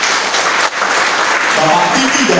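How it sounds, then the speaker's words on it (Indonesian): An audience at a married couples' seminar breaks into loud, dense applause that carries on steadily throughout, with a voice speaking over the clapping. "Tepuk tangan untuk"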